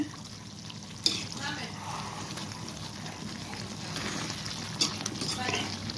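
Garlic chicken frying in oil at high heat, its water nearly cooked off, gives a soft steady sizzle with a couple of sharp scrape-and-clatter stir strokes from the pan, under quiet background sound.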